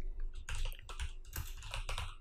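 Close, brisk typing on a computer keyboard as form input is entered, with quick clusters of key clacks and short pauses and no voices.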